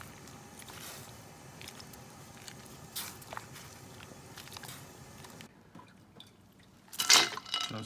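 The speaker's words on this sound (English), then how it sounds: "then we're going to go back over, drain it, put it right into some ice water" Blanched spinach drained in a kitchen, with water dripping and trickling steadily at moderate volume, then a brief louder splash near the end.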